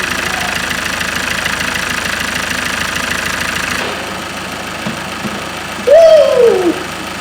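A Ford Mondeo Mk5 engine runs steadily at idle after a timing chain repair, a loud, even hum that drops slightly midway, with a brief whooping cry near the end.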